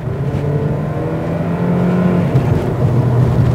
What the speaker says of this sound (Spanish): Lo pones en Sport, aceleras a fondo, andando, y te mete una patada como un carro deportivo.